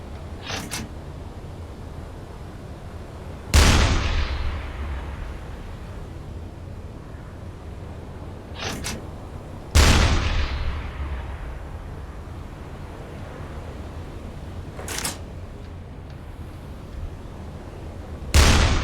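A U-boat's deck gun fires in a submarine war game, four heavy booming shots spaced several seconds apart, each with a sharp crack and a rumbling decay over a low steady engine drone.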